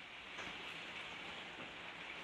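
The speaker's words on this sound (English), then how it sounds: "You may be able to hear that it's raining hard outside." Hard rain falls outside, heard from indoors as a steady, dense hiss that stays even throughout with no voices.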